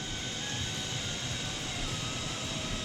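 A Syma S111G infrared RC helicopter in flight gives a steady, even whirring drone of small rotors and motor. It holds at a constant moderate level throughout, with no speech.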